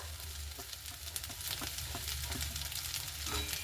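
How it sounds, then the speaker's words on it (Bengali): Leftover cooked rice is stir-fried in a hot pan, with a steady, close sizzle and soft scraping stirs throughout and no talking. "এবার খুব ভালো মতো করে কিন্তু আমি নাড়তে থাকবো।"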